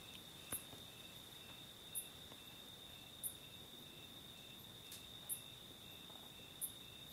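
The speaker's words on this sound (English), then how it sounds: "the crickets in the background" Crickets chirp steadily in the background of a quiet outdoor night setting, a continuous high trill punctuated by faint clicks at regular intervals, with no talk.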